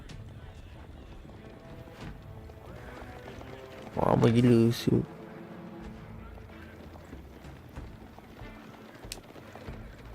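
Horses in Age of Empires 4 heard as faint clip-clop hooves under someone talking, with one loud, brief neigh rising sharply in the middle.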